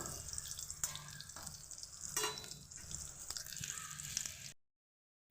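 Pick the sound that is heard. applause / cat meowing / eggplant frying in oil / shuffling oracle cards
eggplant frying in oil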